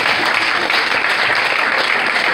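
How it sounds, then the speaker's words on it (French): Dense, loud applause from an audience at an evening event, a steady wash of many hands clapping without pause. "est-ce qu'on peut applaudir pour l'homme bassin ce soir?"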